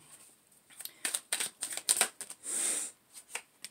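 Tarot cards are shuffled and drawn, close and fairly quiet. Quick crisp riffling bursts and slaps come in uneven clusters, ending in one longer smooth sliding shuffle.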